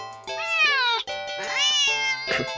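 A domestic cat meows repeatedly and insistently, with two long drawn-out yowls followed by a shorter cry, close and loud with no talking.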